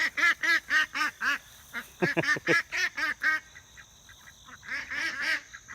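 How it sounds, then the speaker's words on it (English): Loud, insistent quacking from a vocal, pushy duck on a farm pasture, repeated in rapid bursts of nasal calls close to the listener, with no talking. "That has got to be the most vocal, pushy duck I've ever seen in my life."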